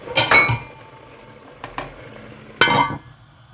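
A lid clanks down onto a cooking pot of Kerala dried fish curry, with two or three sharp metallic clinks and rattles and quiet gaps between them, close and fairly loud.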